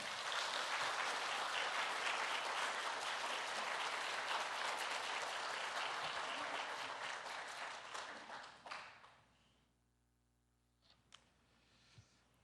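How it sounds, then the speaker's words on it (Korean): A church congregation at a Sunday service gives long, even applause welcoming the pastor, an OMF missionary, to the pulpit, holding steady before fading into quiet with a few stray sounds. "우리 나오실 때 우리 사랑하는 마음으로 박수로 환영하겠습니다"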